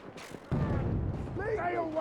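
Heavy booming blasts from grenades going off during an online shooter match, a sudden loud impact followed by sustained rumbling roar, with a person's voice talking over the noise.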